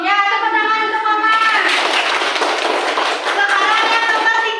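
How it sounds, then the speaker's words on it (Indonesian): Children in an elementary school class clap their hands together for a classmate, a steady burst of applause that starts quietly with a voice at first and swells to fill the room for several seconds. "tepuk tangan"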